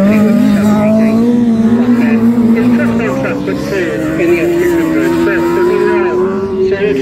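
F600 racing cars on a tarmac circuit at a rally-style race meeting: a steady loud engine drone that rises and falls in pitch as the tail of the field passes, with a commentator talking over it throughout.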